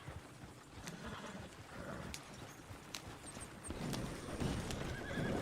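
A horse in Red Dead Redemption 2 whinnies and snorts over steady clip-clopping hooves, with a busy outdoor game soundscape behind it.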